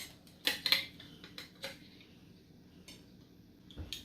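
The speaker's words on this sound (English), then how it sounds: "Now we're just going to place our rings on top." Metal canning rings clink and tap as they are set onto jars of pickled red onions, a cluster of bright clatters early followed by a few scattered, quieter knocks.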